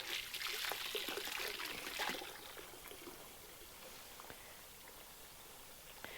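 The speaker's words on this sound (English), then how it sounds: "while the hose clears out" A garden hose runs water onto oleanders a few feet away while the line clears out, making a faint, steady trickle and splash that is slightly stronger at first, then settles.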